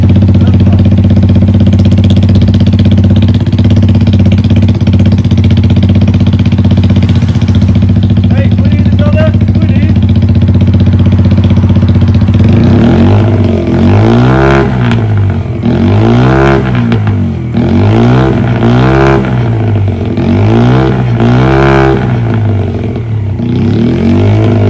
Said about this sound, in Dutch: En nu wil ik een elektronische starter starten.